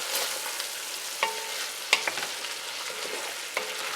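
Meat searing for a five-bean soup, a continuous crackling sizzle in a pot, broken by a few sharp scrapes and knocks of a utensil as it's stirred, close up and with no voices.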